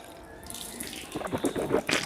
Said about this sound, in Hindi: सबसे पहले हमें 3 मरतबा हाथ धो लेने हैं